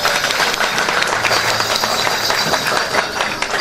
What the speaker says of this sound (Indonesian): Tepuk tangan untuk Idola Bangga.